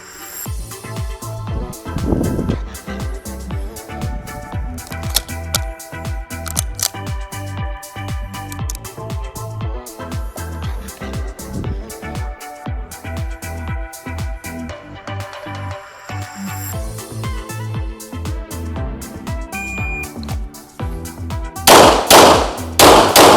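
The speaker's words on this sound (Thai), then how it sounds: "เดี๋ยวผมจะลองยิง เอลพิเซเดนเต้นะครับ ก็คือเป้าละ 2 นัดนะครับ เปลี่ยนแมกกาซีนแล้วก็ยิงเป้าละ 2 นัดนะครับ" A Sig Sauer P226 TacOps pistol fires rapid close, loud shots in an El Presidente drill, pairs of sharp cracks broken by a short pause for a magazine change, then more quick shots.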